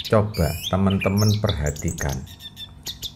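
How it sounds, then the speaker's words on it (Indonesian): Recorded master birdsong plays for an orange-headed thrush, loud squawking phrases and chirps close by, while someone talks over the start of the calls. "suara masteran didengarkan, burung ini bunyi ngeriwi apa enggak?"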